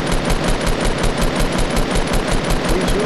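Rapid, steady gunfire in a battle royale video game, a continuous loud stream of evenly spaced shots hammering for several seconds with no talk over it.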